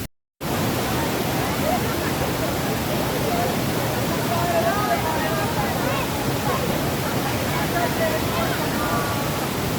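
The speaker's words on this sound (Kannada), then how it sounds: "ಏನು ಫೋರ್ಸ್ ಆಗಿ ಬರ್ತೈತೆ ನೀರು" A forceful waterfall at a Kerala viewpoint roars as a steady, loud wall of rushing water, continuous and unbroken throughout.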